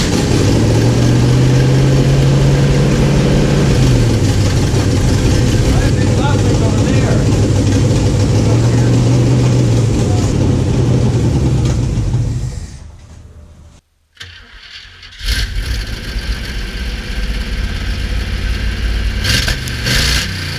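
The rebuilt Edelbrock engine of an El Camino runs with new mufflers, a loud, rumbling idle with slow swells that cuts out briefly, then comes back at a steady drone.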